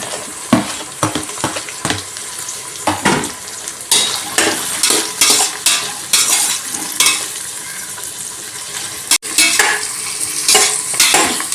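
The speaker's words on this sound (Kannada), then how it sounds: "ಚೆನ್ನಾಗಿ ಫ್ರೈ ಆಗಬೇಕದು." Peas, carrots and other vegetables frying for vegetable pulao, a bright sizzle broken by repeated spatula strikes and scrapes against the pot in irregular bursts, close and fairly loud.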